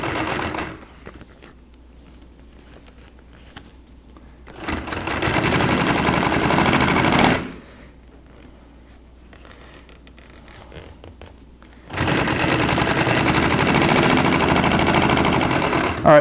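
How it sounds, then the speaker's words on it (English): A sewing machine stitching boat canvas runs in two sustained bursts of rapid mechanical chatter, close and loud, separated by quieter pauses with faint handling noise, and no one talking. "start your sewing"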